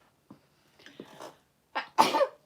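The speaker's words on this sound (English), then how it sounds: "I'm gonna sneeze. I feel it coming on." A single person's sneeze, preceded by a few short sharp inhalations building up to it and ending in a loud, close burst with a breathy tail.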